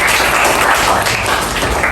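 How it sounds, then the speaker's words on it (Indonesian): A classroom of students applauds a classmate during a mathematics lesson, a steady, close patter of many hands clapping with no talk over it. "Ya, tepuk tangan dulu."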